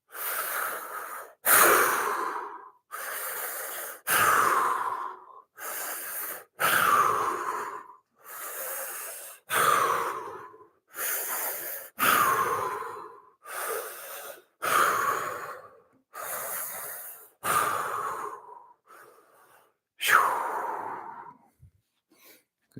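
Deep, slow breaths during a fascial release exercise, a long run of repeated loud inhales and exhales through the nose and mouth at a steady pace of roughly two seconds each, close to the mic and alone with no talking.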